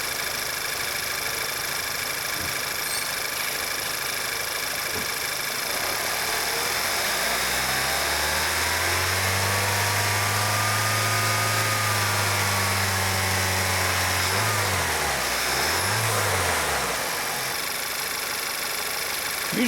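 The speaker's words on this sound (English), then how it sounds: "Go race the engine a little bit," A 2011 VW Eos with trouble codes P2187 and P0351 hums steadily at idle, then is raced in a long smooth rev that climbs, holds and drops, followed by two quick blips back to idle under a constant hiss.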